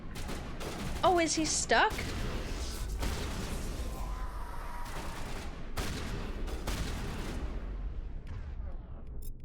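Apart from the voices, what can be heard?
gunfire in video game Mass Effect 1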